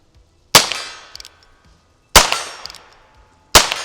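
A Heritage Rough Rider .22 revolver fires three loud, sharp shots at torso targets, each crack followed by a fading ring, spaced about one and a half seconds apart.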